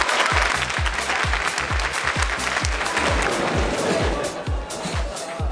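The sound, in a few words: applause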